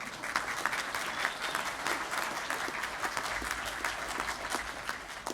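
A commencement crowd applauds graduates steadily, a dense sustained wash of clapping hands that holds at an even level throughout.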